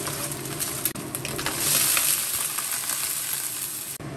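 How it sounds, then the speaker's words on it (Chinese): Eggs fry in a pan in a small home kitchen, a steady soft sizzle and crackle running throughout with faint bird cooing in the background and no voices. "把这个鸡蛋煎熟一点"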